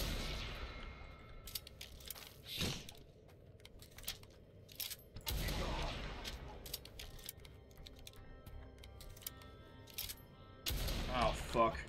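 Enemy gunfire in the game Blood West, with a few scattered sharp shots and bursts at mid distance over a low, steady game ambience.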